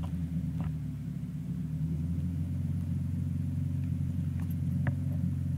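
An RAF 2000 gyroplane engine idles at about 1250 to 1300 RPM, a steady low rumbling drone that stays constant throughout, with a few faint clicks on top.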